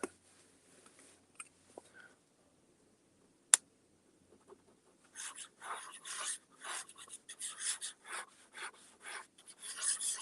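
A flexible dip pen nib writing on paper: near quiet at first with a few isolated taps and clicks, then a run of soft scratchy strokes and rasps in quick, irregular bursts, close and faint.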